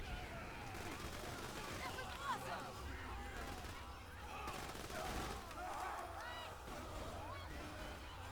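Rapid gunfire with ricocheting bullets rattles through a Borderlands 2 firefight, dense bursts of shots and pinging impacts running almost continuously at a moderate level.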